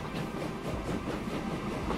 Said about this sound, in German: Hallo Zug, jetzt hätten wir dich fast übersehen.